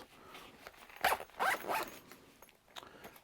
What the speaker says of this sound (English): the zipper that makes the sound